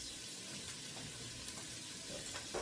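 Beef tips frying in a heated pan, a steady soft sizzle holding at low volume throughout with a few faint crackles, no voices.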